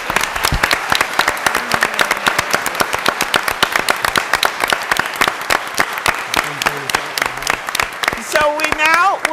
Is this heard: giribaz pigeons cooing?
no